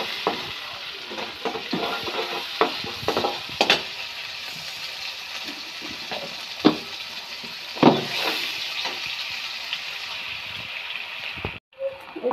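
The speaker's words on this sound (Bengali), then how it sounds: "এই যে আমার পেঁয়াজটা ভেজে নিচ্ছে।" Onions frying in a pan while being stirred, a bright continuous sizzle with scraping spatula strokes and small knocks at irregular intervals, close and fairly loud.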